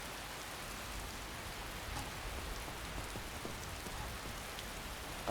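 Rain falls in Skyrim, a steady soft hiss of drops pattering on surfaces, even and fairly quiet throughout with no voices or thunder.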